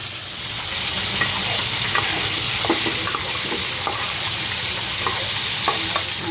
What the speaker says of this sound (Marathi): आता मसाला हा तेल सुटेपर्यंत फ्राय करून घ्यायचा.